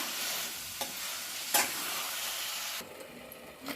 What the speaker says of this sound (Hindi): अब इन सारे चीज़ों को मैं मिक्स करके इसको सुखा देंगे